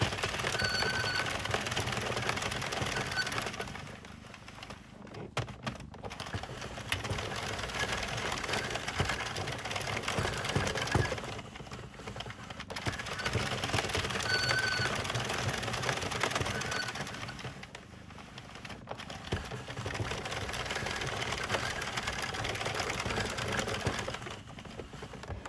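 A 46/48-needle circular knitting machine is cranked by hand, giving a continuous mechanical clatter and whir that swells and dips in repeated cycles as each round of knitting passes, with no voices over it.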